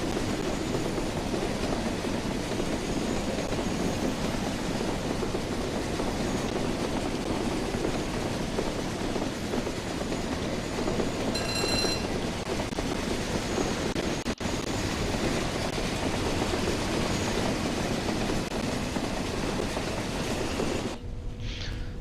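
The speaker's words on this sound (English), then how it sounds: "I can only hear like the traction motor whine." In Train Sim World 2020, a BR Class 31 diesel locomotive's traction motors give a steady, continuous rumbling drone with a faint whine, running alone without voices for the whole stretch.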